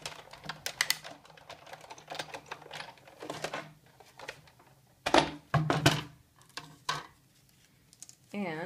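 A hand-cranked die-cutting machine feeding framelits and a cutting pad through, giving irregular clicks, thunks and ratcheting bursts close by, with someone talking intermittently over them.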